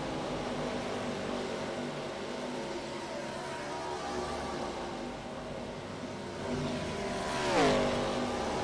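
Race car in the iRacing video game entering pit lane at Atlanta Motor Speedway in an ARCA series race, a faint engine drone that swells into a brief rev and downshift near the end, with no voices.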